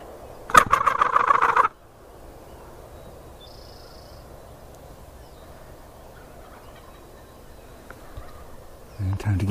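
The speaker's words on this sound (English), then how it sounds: "I can hear turkeys gobbling. I can hear them up on the hill." Wild turkeys gobble from up on a hill: one loud, rattling gobble bursts out near the start, then quiet morning air follows before another faint call rises at the end.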